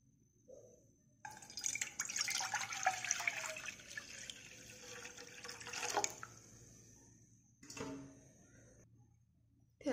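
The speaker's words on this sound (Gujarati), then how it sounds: "એમાં આપણે પાણી નાખીશું." Water pours into a cooking pot for a Kathiyawadi seven-grain khichdo, a close splashing stream running for several seconds, pausing briefly, then a shorter second pour, with no talking.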